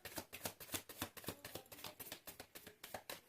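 Tarot cards being shuffled by hand, a quick rhythmic riffle of papery flicks and slaps repeating about four times a second, close and soft, with no voices.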